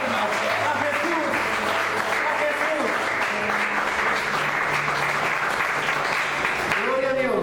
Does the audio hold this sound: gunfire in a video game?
no